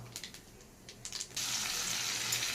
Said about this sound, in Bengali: এই মাছ ভাজার তেলেই আমি 1/2 চামচ কালো জিরে দিয়ে দিচ্ছি, আর কেটে রাখা আলু